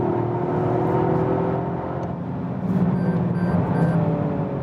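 A 2021 Toyota GR Yaris hot hatch driving in sport mode: a steady engine drone inside the cabin that rises in pitch as the revs climb, with tire and road noise underneath.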